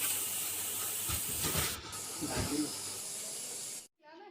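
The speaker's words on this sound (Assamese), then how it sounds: "এয়া হাঁহৰ মাংস বনাই আছে জুইত দাদাই।" Duck meat cooks over an open fire with a steady hiss and sizzle that runs for several seconds, swelling briefly in places, then cuts off abruptly near the end.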